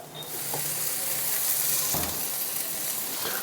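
Chole and paneer fry on a hot pan for tandoori chole, giving a loud, dense, continuous sizzle close up, with a few faint scrapes and knocks of stirring and no voices.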